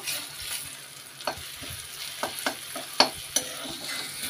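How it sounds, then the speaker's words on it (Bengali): Marinated chicken being sautéed in a home-kitchen pan, with steady sizzling and frying under intermittent scrapes and stirring knocks from a utensil, close and moderately loud with no voices. "এবার চিকেনটা ম্যারিনেট করে রেখেছিলাম, এবার কষিয়ে নিচ্ছি।"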